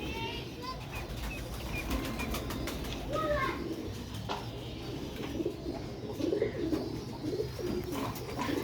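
Ferozpuri pigeons coo softly in a loft, low murmuring calls repeating under light background chatter and a few brief bird chirps, with occasional wing flutters.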